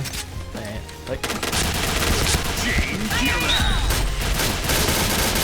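Rapid Pindad SS3 rifle gunfire in the Point Blank shooter game, dense bursts of shots cracking continuously across the whole stretch, loud and close, with faint game effects and a voice briefly underneath.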